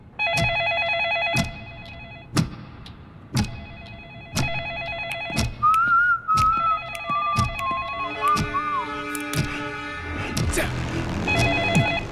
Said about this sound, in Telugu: సార్ ఫోన్ ఎత్తలేదు. మళ్ళీ ట్రై చేయి.